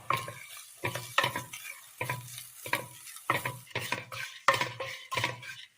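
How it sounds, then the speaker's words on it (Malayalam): Grated coconut fries in oil in a pan on the stove for a Kerala dish, with about a dozen rhythmic scraping stirs of a spoon over a soft, steady sizzle. "എണ്ണയിലേക്ക് തേങ്ങ തിരുമ്മിയത് ചേർത്ത് കൊടുക്കാം."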